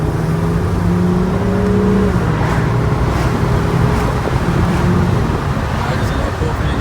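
A Volkswagen R32 cruises on a road at the speed limit, its engine giving a steady, droning hum under continuous road and tyre noise, with a slight rise in revs partway through.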